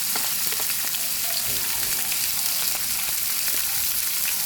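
Garlic and pork being stir-fried in a pan, giving a dense, continuous close sizzle with faint scraping of a utensil throughout and no talking.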